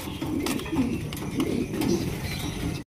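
Black Checker Beauty pigeons cooing nearby, soft repeated low coos over a murmur of background noise and a few faint clicks.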